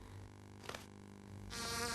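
Cartoon flies buzzing in a steady, close insect drone under a musical backing, the buzz swelling louder toward the end with no talking.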